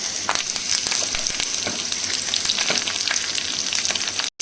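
Garlic cloves, two dried red chillies and curry leaves crackle and sizzle in hot tempering oil for a Telugu spinach-and-lentil dal, a close, dense frying hiss with bursts of popping, then a sudden cut.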